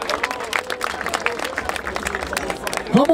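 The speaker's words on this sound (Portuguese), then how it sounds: "Palmas pra esse primeiro round, quebrada!" The crowd at a street rap battle in Barueri applauds after the first round, brisk scattered clapping mixed with cheering voices, and a shout rises sharply at the end.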